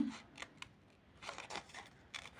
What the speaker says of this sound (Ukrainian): я акуратно, дотримуючись правил безпеки, роботи з ножицями, вирізаю